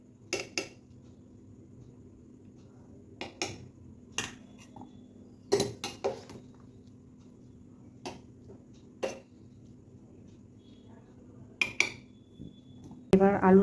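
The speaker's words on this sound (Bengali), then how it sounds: "একে একে আলুগুলোকে তুলে নেবো এবারে ভাত থেকে।" Boiled potatoes are lifted one by one out of a pot of cooked rice, heard as scattered sharp clinks and scrapes of a utensil against the metal pot over a quiet background.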